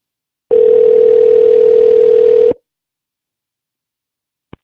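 A telephone call to a man rings unanswered: one steady, loud tone lasting about two seconds, then silence and a soft click.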